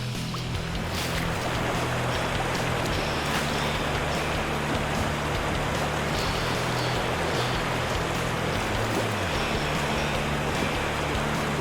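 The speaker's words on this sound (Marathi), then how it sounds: "पाण्याचा आवाज वाढला, खळखळाट वाढला" Rushing whitewater rapids on a river raft trip in Vietnam, a loud, constant broadband roar of churning water close by with no voices.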